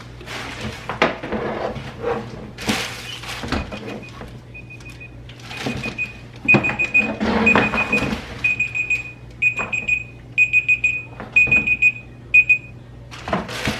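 Timer alarm beeping in repeated short electronic pulses, starting around the middle and coming in clustered bursts, over rustling and clattering of household boxes being sorted.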